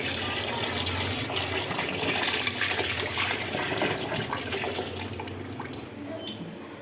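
Tap water running steadily while raw chicken is washed with salt, a continuous splashing gush with some soft handling and clinking, fairly close and even in level throughout.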